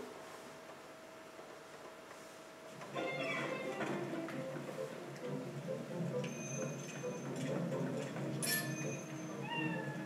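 A small cat meows in the video game Zelda Twilight Princess, several short high calls over a quiet game ambience with ticking and light background music.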